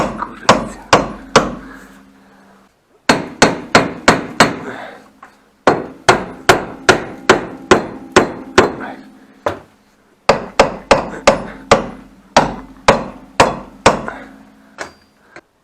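Loud, sharp hammer blows on metal in rapid bursts of about eight to ten strikes each, separated by brief pauses, close and ringing slightly, while removing a Volkswagen Passat B5 suspension.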